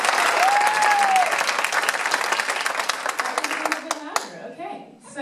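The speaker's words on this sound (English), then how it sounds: "Big old clap for swing." Crowd clapping at a Santa Fe live music venue rings out loud and thick, with a whistle-like tone early on, then tapers into scattered claps as a voice begins to speak.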